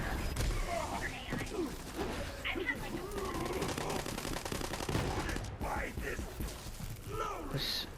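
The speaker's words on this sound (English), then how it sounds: "this is another one of those guns, you know, you can just fire blindly" Gunfire in Borderlands 3, continuous blind spraying of rapid shots under shouting and a talking voice, with bursts of chaotic combat noise throughout.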